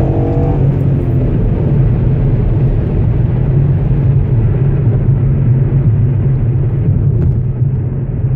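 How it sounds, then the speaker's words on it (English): A Ford Mustang is underway on the road. A loud, constant engine rumble and road noise from inside the cabin continue without a break. "I love riding in this Mustang."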